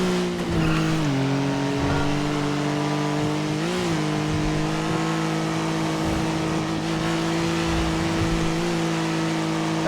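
Porsche driving in the NoPixel GTA video game, a loud steady engine drone with rising and falling revs and brief tire noise, sustained without talk.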